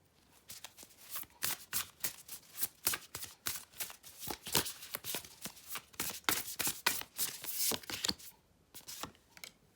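Tarot cards being shuffled and drawn during a reading, a quick run of crisp riffling snaps and slides close to the mic, with brief pauses between bursts and no talking.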